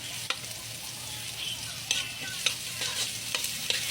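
Banana mushrooms fry in a hot pan with a steady hiss and occasional sharp pops and spatters, plus a faint low hum underneath, with no talking.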